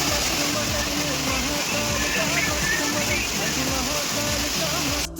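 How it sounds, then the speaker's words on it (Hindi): A mountain waterfall beside the Kedarnath trek route gives off a loud, unbroken broadband roar of falling water that fills the whole stretch and cuts off sharply at the end. "कितने सुंदर सुंदर हमें झरने यहाँ रास्तों में मिले थे"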